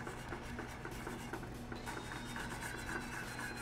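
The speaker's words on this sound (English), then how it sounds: "in a pat at a time, kind of start whisking that into this reduction" A whisk scraping and swirling in a pan as pats of butter are worked into a sauce reduction, a quiet steady rubbing and rasping sound with no talking.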